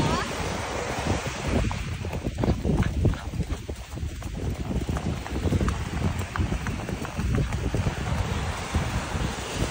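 A horse walks along a beach while surf breaks nearby and wind buffets the microphone; soft, irregular hoof clops sit under steady ocean wash and gusts.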